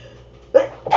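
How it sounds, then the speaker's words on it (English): A person sneezing from an allergy to freshly laid cat litter, two sharp nearby bursts, the second following closely after the first, with a quiet room in between. "So while I sneeze away,"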